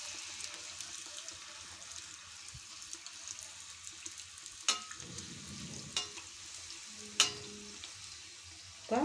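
Poori deep frying in hot oil while being pressed down, a faint, steady hiss with a few sharp clatters and sputters near the end.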